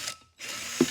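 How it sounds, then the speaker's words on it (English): A socket wrench clicks through a few quick ratcheting strokes on a wheel bolt of a three-piece wheel, close and fairly quiet, with a brief pause between bursts and no talking. "Think we're going to need a socket on the other side?"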